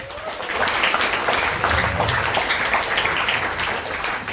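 An audience at a new-student orientation week gathering at Universitas Ibn Khaldun applauds steadily, a dense wash of clapping that holds for the whole stretch at moderate loudness.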